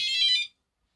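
A Prologic SMX Mk2 carp fishing bite alarm gives a single short, loud electronic tone lasting about half a second, then cuts off into silence.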